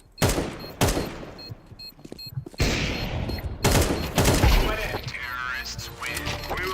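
Gunfire in the video game Valorant: sharp repeated shots and bursts crack in quick succession over several seconds, with excited voices talking over the action.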